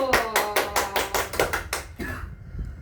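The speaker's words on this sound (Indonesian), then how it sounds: "Tepuk tangan dulu." Classroom of students clapping in unison for a correct answer, a rhythmic series of about nine loud, evenly spaced claps that stops abruptly, followed by a brief voice.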